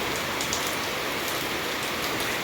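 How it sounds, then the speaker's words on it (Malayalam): Steady, heavy night rainfall pattering on surfaces, a dense even hiss without pauses, no voices or other sounds standing out. "ജനൽ തുറന്നു കുറച്ചു നേരം ജനലിലൂടെ മഴ കണ്ടു"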